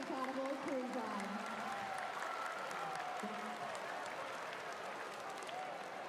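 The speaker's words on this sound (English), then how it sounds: "Let's give it a round of applause to Jeff" Crowd at an NBL basketball game between the Brisbane Bullets and South East Melbourne Phoenix gives steady, sustained applause across the arena, with a voice speaking over the clapping.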